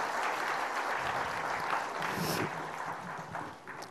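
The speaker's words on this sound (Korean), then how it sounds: "우리 우렁찬 찬양으로 하나님께 영광 돌리는 성가대 큰 박수 한번 하시기 바랍니다." A church congregation applauds the choir, with dense, sustained clapping from a large crowd filling the hall and fading slightly toward the end.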